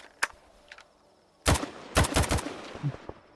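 Rifle fire with 7.62×54 ammunition in a video game: one sharp shot, then a pause and a rapid series of loud, close bursts, followed by a few fainter reports.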